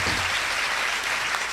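Strong, steady applause from a church congregation at an Easter Day Mass, clapping for a child; a dense, even wash of hand claps that holds for the whole moment without any voices over it.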